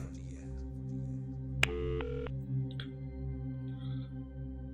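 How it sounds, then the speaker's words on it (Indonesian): A mobile phone dials out, a short burst of stacked electronic tones followed by a few faint beeps, heard quietly over a steady low hum. "Aku keluarkan handphoneku dan coba aku telepon dia."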